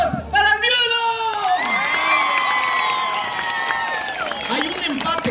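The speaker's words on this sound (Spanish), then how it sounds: "Aplausos para el viudo." A rural rodeo clown show crowd cheers and whoops with scattered clapping, loud and sustained, as voices shout and talk over the noise throughout.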